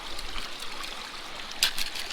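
River water runs through a gold sluice on a rainy day with a steady close-up trickle and gurgle, plus a brief splash near the end.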